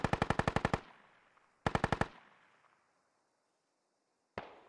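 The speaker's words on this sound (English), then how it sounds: "one guy gets mowed down by an MG, another guy gets mowed down by another MG" Machine gun fire in a military shooter game: two separate rapid bursts of about eight and five shots, loud and close, each trailing off into a reverberant decay, with a third burst starting at the very end.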